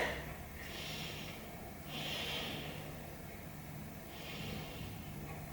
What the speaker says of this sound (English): Let's take 3 more breaths here